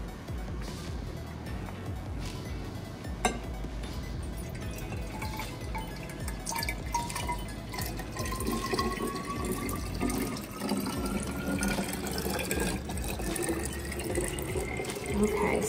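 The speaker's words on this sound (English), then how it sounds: "Now we're gonna pour it into this third container." Liquid poured into a third container during a classroom demonstration, a steady splashing and trickling that grows fuller and louder as the pour continues, with faint background noise.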